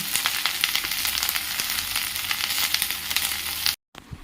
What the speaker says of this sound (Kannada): ಇದು ಇವಾಗ ಫ್ರೈ ಆಗ್ತಾ ಇರಲಿ